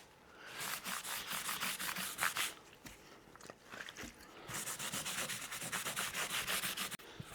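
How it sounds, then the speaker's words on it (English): A cloth is rubbed back and forth with naphtha over a spalted wood hollow-body PRS-style guitar body, giving close, steady scrubbing strokes in two long bursts with a brief pause between them, no talk. "Let's just rub it with a bit of naphtha."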